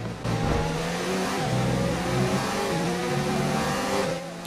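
A Ferrari Formula 1 car engine in the F1 2019 racing game, howling steadily at high revs with shifting pitch as it accelerates, loud and close throughout.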